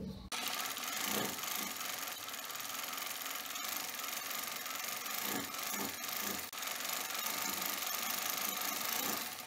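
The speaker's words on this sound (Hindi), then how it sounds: "इसकी साइड पे सिलाई लगा रही है" A sewing machine stitches along the side of a fabric strip for a baby top, a continuous fast whirring hum that runs almost unbroken after a brief start.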